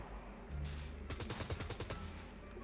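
Gunfire in the zombie survival video game SCUM, a rapid burst of roughly a dozen shots fired in quick succession, moderately loud over a low background hum.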